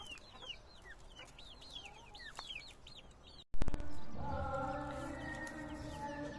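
Young chicks peep in rapid, high chirping bursts while roaming a sunny garden, then a sudden loud clatter cuts in and a steady, fuller mix of birdsong and farmyard noise carries on close by.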